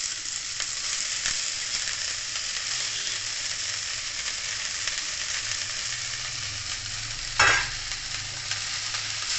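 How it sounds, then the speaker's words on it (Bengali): Red amaranth greens (lal shak) stirred in a hot pan for a Medinipur-style sour dish, giving a steady close sizzle and hiss with soft scraping stirs and a brief louder spatter burst late on; no talking. "এবার আমি লাল শাকটা এর মধ্যে দিয়ে দেবো।"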